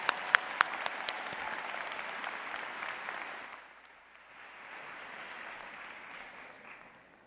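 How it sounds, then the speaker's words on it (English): A commencement audience applauds PhD graduates at a university ceremony, with steady, fairly distant clapping that has a few sharp claps up front, then fades before swelling again. "Let's give one more round of applause to all of our PhD graduates."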